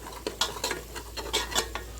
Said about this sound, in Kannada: ಈಗ ನೋಡ್ರಿ ಸ್ವಲ್ಪ ಅರಿಶಿನ ಪುಡಿ ಹಾಕತ್ತೀನಿ. ಈ ರೀತಿ ಫ್ರೈ ಮಾಡಿಕೊಡ್ರಿ.